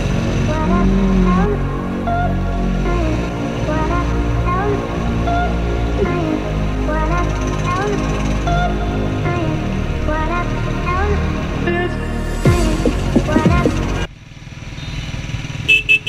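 A UM Renegade Commando motorcycle is ridden on the road, its engine droning steadily and loudly up close with wind rush, then dropping off sharply near the end as the ride changes pace.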